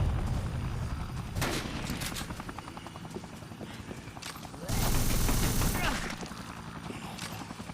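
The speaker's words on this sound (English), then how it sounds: "Machine guns were working better, I think." Rapid gunfire from a machine gun in the Dead Rising video game, rattling in dense bursts amid game noise with a loud surge near the middle, while a helicopter-like drone runs underneath.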